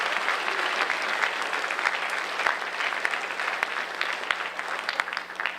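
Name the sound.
audience applause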